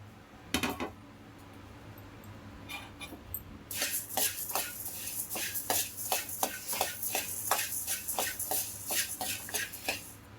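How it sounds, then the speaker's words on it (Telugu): Coriander seeds are dry-roasted in a pan, with a quick run of rhythmic scraping and rattling stirring strokes that are close and fairly loud. "ఇప్పుడు ధనియాలు వేయించుకుందాం"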